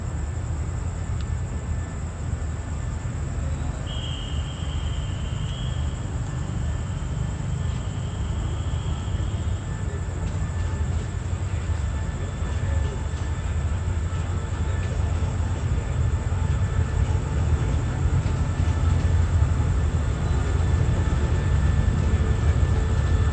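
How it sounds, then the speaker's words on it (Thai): SRT express train 84, hauling an air-conditioned sleeper car and a meeting car at the rear, passes with a steady, loud rumble and rolling wheel noise that holds evenly for over twenty seconds, without talk. "84 เที่ยวค่ำคืนนี้พ่วงรถจัดเฉพาะมาด้วยนะครับ"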